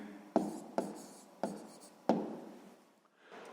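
A pen writes answers on paper for a sixth-grade maths exercise: four quick scratchy strokes, each starting sharply and tailing off, with a short pause and another soft stroke at the end. The sound is close and clear, with no talking.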